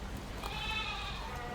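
A Boer goat bleats nearby on a farm, one short wavering call over steady background noise.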